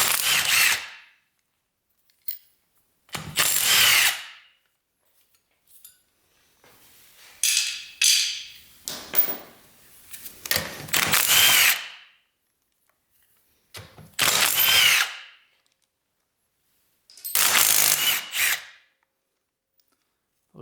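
Power tool spinning out 12 mm cap bolts from an old 1200cc motorcycle engine, loud bursts of whirring and rattling, each lasting a second or two, separated by quiet gaps, repeated about six times.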